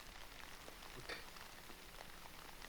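Steady, soft rain falling everywhere in the video game Wildhjarta, a continuous even hiss of drops with one brief brighter patter near the middle, no voices over it.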